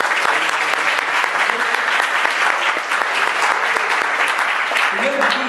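A church congregation applauding together in a hall, with dense steady clapping that holds loud throughout and a few voices calling out beneath it.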